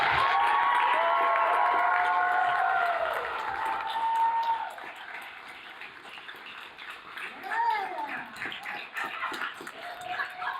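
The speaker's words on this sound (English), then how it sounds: "Can we give a round of applause for Tourmaline?" Audience at a trans feminism talk applauds and cheers for guest Tourmaline, a loud wave of clapping with whoops that eases off midway, while a dog whines and scattered voices and cheers continue.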